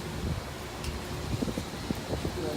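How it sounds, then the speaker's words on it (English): Wind buffets the microphone in uneven gusts at Disney's Pop Century resort as it turns wet, with faint rustling and low rumbling throughout. "it is windy right now"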